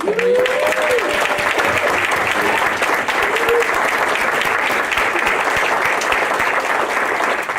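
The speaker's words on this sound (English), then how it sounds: "One more round of applause." Sustained audience applause at a lecture, a dense steady wash of many hands clapping that fills the whole stretch at even loudness, with a brief faint voice near the start.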